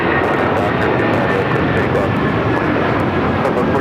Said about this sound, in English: I'm going with 25 right, clear for takeoff.